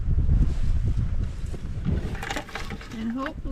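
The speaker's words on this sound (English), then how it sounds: "So it's quite a windy day today." Wind gusting on a garden plot on a breezy day, a broad low rumble of microphone buffeting that stays steady throughout, with a voice speaking over it near the end.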